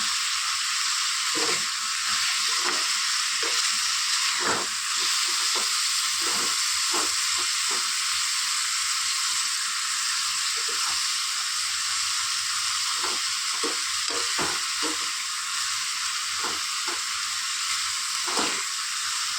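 Green beans curry seasoned with turmeric and salt bubbles and simmers in a pan, giving a steady close hiss with scattered soft pops and clicks throughout.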